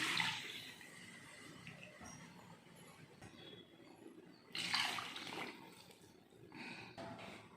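Water splashes and pours into a pot of soaked rice in short bursts, with a louder gush midway and quieter trickles around it, close by.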